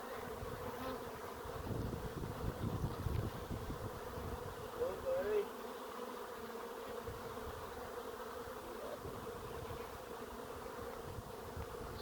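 Bees buzz around a large hive during a trap-out, a faint steady hum with a few individual insects drifting close past the microphone, under light wind.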